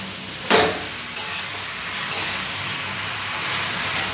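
Jackfruit pieces fry in oil with salt and turmeric, giving a steady loud sizzle throughout, broken by three short scraping stirs of a spoon in the pan, with no one speaking.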